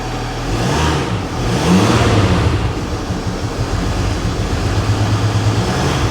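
A Mercedes ML350 replacement engine runs continuously up close with an uneven, lumpy rumble that surges and wavers, sounding rough rather than smooth; no one speaks.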